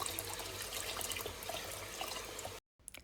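Room-temperature water pours steadily into a bowl of basmati rice, a continuous close splashing trickle that stops abruptly near the end, followed by quiet.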